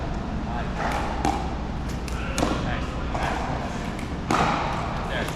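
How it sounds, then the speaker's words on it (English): Pickleball paddles tap the ball over and over in soft cross-court dinks, a steady run of light thuds and clicks at moderate distance, with a bit of talk. "Cross court dink using our correct footwork hopefully this time."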